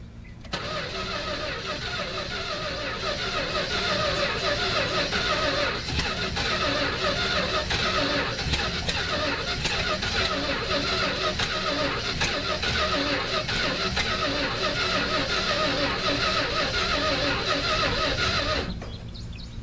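The V8 of an abandoned 1969 Dodge Dart, unstarted for years, cranks and catches, then runs loud and rough at a steady idle for nearly twenty seconds before cutting off.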